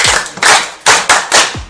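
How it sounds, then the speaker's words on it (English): Applause for a young child naming farm animals: about five short, sharp bursts of hand clapping close by, each separated by brief gaps. "Clap for her."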